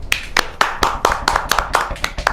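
A few podcast hosts clap their hands close to the mic, about a dozen crisp, slightly uneven claps in quick succession.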